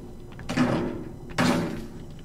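In the video game Outlast: Whistleblower, a head bangs against a door twice, about a second apart, each a loud dull thud with a rattling decay.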